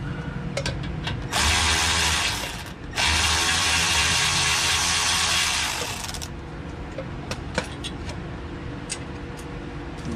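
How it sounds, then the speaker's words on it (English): Brake caliper piston being forced back in by hand on a car during a rear brake pad job, giving loud sustained grinding, ratcheting mechanical bursts with brief pauses, then lighter scattered clicks and taps. "So I'm just gonna push the damn piston in myself."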